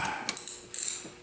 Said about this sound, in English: Tighten our bolts.